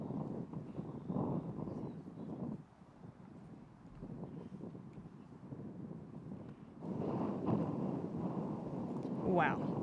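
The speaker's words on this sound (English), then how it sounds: "Wow, it's gusting." Strong wind gusts over an outdoor disc golf course during a professional tournament make a broad, low roar that swells and eases, then surges louder near the end, with faint voices underneath.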